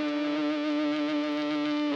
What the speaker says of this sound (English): what we can do from that point is turn on the distortion.